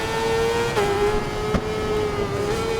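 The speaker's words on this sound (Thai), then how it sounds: "ฟังเสียงเครื่องนะ" A Suzuki GSX-R1000 sport bike in Ride 4 holds a steady high-pitched engine whine, close and loud, dipping briefly at each gear change before settling again, with no talking.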